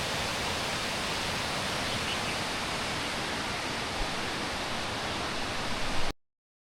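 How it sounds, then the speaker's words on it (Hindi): Mountain stream water rushing steadily below, a dense, even roar of flowing water that holds constant throughout with no voices, then cuts off abruptly. "नीचे नाला है पानी का जो ऊपर से पहाड़ों से आ रहा है।"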